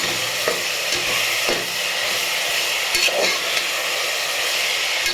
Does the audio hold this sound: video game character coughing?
no